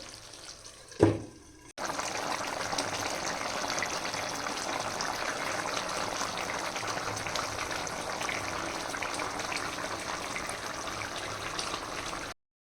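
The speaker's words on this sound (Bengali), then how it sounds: "মাছ ধুতে হবে" Running tap water washing fish in a kitchen, a brief knock at the start and then a steady close splashing gush that continues for about ten seconds and stops abruptly.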